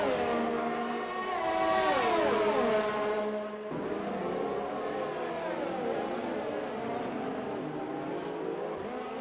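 Formula 1 cars race in the F1 2020 video game at Australia, high-pitched engine whines sweeping up and down in pitch as several cars pass together, loud and continuous without pause.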